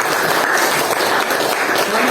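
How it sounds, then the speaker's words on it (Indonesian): A classroom claps for a student after her presentation, a full, close burst of many hands at steady volume for a couple of seconds. "Tepuk tangan untuk Saudari Nabila."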